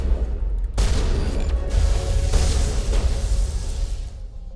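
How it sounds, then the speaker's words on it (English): Shotgun fire in a video game: a sharp blast after a short quiet opening, then a loud, dense burst of gunfire that sustains for several seconds before tailing off. "Oh, shotgun."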